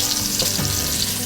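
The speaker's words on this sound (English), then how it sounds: "Let some of that fat liquefy in the pan." Fat frying and browning in a pan for a spezzatino stew, a close, steady sizzle and crackle throughout the brief moment, with no voices.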